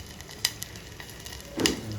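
A tempering for khaman sizzles in short bursts, two bright crackling spurts over a low steady background hiss, close and fairly loud with no talking.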